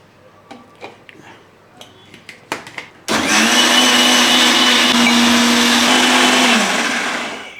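Small taps and clicks of a mixer grinder jar being handled give way to the loud, steady whir of the grinder blending raw mango curry paste with half a glass of water, then winding down near the end.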